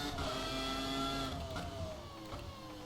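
A race car in the rFactor 2 racing game, at the Hungarian Grand Prix, drives with a steady high engine whine whose pitch slowly drops as it slides into a turn.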